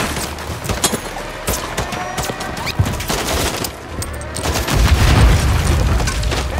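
Helicopters blown up in a military shooter video game: loud, dense bursts of gunfire and heavy booming explosions, with a deep rumbling blast swelling toward the end.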